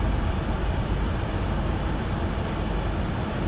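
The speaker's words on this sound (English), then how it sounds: "I am parking my car." A car being parked gives a steady, close, low rumble of engine and road noise that holds level throughout, with no talking.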